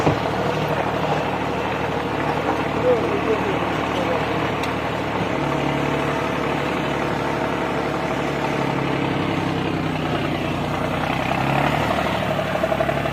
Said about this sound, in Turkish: Traktörümüz biraz kayıyor, çamur.